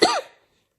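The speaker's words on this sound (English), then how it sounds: "still got that cough" A single short, harsh cough from someone speaking at a talk about screenplays, close and dry, fading out quickly into silence.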